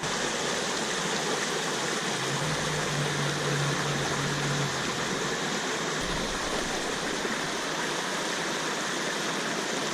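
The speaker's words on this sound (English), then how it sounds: "the sounds of a little stream off to our left here" Steady rushing water from a small mountain stream beside Route 33, the Jacinto Reyes Scenic Byway, fills the scene evenly, a constant broadband wash with a faint low hum briefly underneath.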